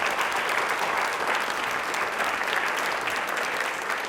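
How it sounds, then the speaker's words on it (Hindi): Studio audience applause on a televised quiz show, a loud, sustained roar of clapping that stays even and unbroken throughout. "एक बार तालियां जोरदार हो जाए"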